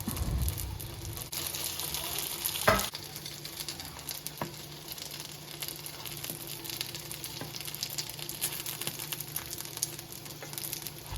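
Dumplings frying lightly in hot oil in a pan, a steady close sizzle with crackling pops throughout and one brief louder clatter early on.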